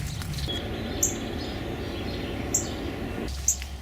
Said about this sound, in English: Hear that bird chirping?